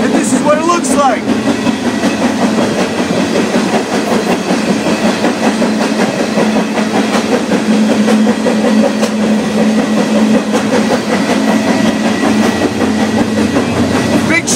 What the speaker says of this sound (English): I'm riding some freight through the Canadian Shield, which is Northern Ontario